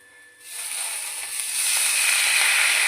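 Boiled atta Maggi noodles hit a hot pan with mixed vegetables like carrot, potato and capsicum, setting off a sudden, steady sizzle that swells and holds close and loud.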